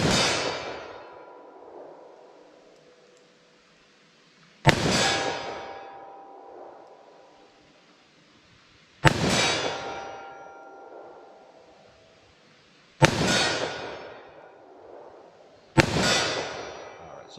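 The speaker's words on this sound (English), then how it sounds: "So the 357 Magnum has a lot of blast" .357 Magnum snub-nose revolver firing five sharp, loud shots spaced several seconds apart, each a piercing crack with a ringing tail that fades before the next, no speech.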